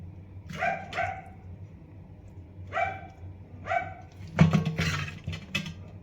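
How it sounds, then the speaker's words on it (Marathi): A neighbour's dog barks in short bursts, several single and double barks spaced apart, fairly close, with a low steady hum beneath. "आमच्या शेजारी कुत्रा आहे त्यामुळे बघतो त्यामुळे आवाज येऊ शकेल"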